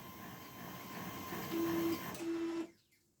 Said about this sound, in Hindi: मैंने पावर केबल लगा दिया और प्रिंटर तुरंत ही ऑन हो चुका है